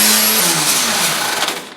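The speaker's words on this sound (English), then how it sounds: "This big grinder really takes the material off" A big angle grinder works against sheet metal during bodywork patching on an old junkyard Cadillac, a loud, steady broadband grind that holds close and continuous, then tapers as the tool winds down at the end.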